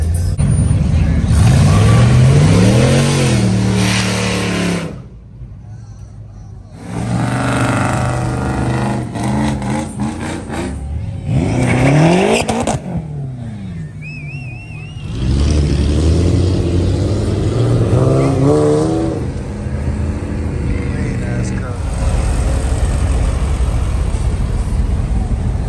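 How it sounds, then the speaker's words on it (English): A Chevrolet Impala revs hard at a street car cruise, its engine rising and falling in loud bursts separated by brief lulls, close by amid outdoor crowd noise with some voices. "Damn, you hear that Impala?"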